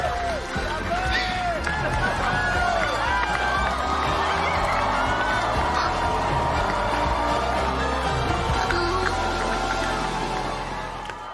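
A large crowd cheers, claps and shouts continuously through a played-back broadcast, a dense, loud wall of noise with voices mixed in throughout.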